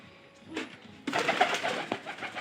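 Pigeons cooing indoors, a soft coo followed by a louder run of throaty cooing and rustling, close by, with no speech.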